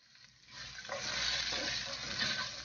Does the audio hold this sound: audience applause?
no